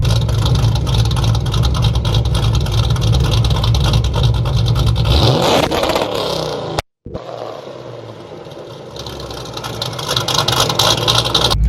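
A supercharged Mustang GT holds a loud, steady two-step rev, then a sharp burst as the engine releases, a brief cut to near-silence, and a rough, lumpy rumble that builds again afterward.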